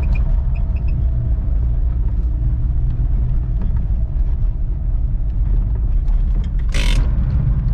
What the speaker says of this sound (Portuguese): o ronquinho do paliozinho é bonito